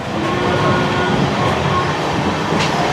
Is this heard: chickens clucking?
no